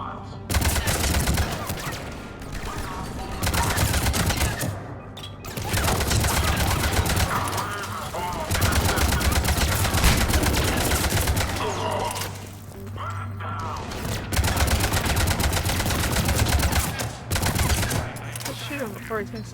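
Rapid gunfire bursts from a Mass Effect 3 firefight, loud and nearly continuous across the stretch with brief gaps, layered over game music and effects, with voices talking at points.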